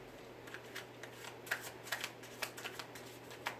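Tarot cards being shuffled in quick, crisp riffles, soft flicking bursts repeating every half second or so, close up with a faint steady hum underneath.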